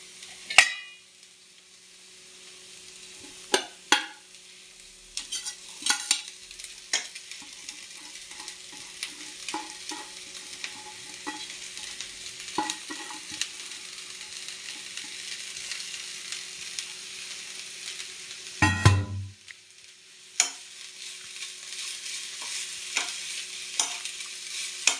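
Vegetable thoran cooks uncovered in a pan while a spoon stirs it now and then, giving scattered scraping taps over a faint, steady sizzle, with one louder clatter partway through.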